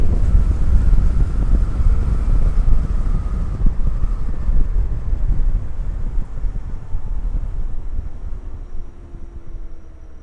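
Wind buffets the microphone during a night motorbike ride through Tokyo, a loud, steady low roar with engine and road rumble underneath, easing slightly toward the end.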